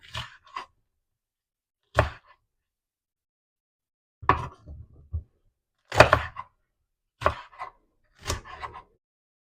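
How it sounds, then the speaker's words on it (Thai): Several separate knife strokes slicing diagonally through crisp bell peppers onto a board, irregular crunchy chops with quiet gaps between them. "เริ่มจากนำพริกหยวกนะครับ มาหั่นเฉียงๆนะครับ"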